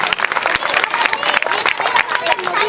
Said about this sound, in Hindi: एक बार जोरदार ताली बजा हमारे आयोजन समिति के लिए